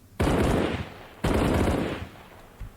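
Two short machine gun bursts fired at a range in the video game Arma Reforger, each a loud, fast rattle about half a second long, followed by a faint trailing shot.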